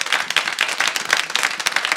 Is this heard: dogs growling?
no